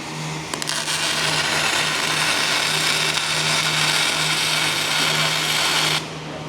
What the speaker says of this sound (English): He's going to weld all the way across, the whole line.